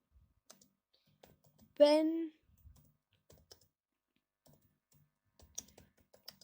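Sparse, quiet computer keyboard clicks from someone typing C# code in Unity, scattered single taps and short bursts, with a brief voice sound partway through.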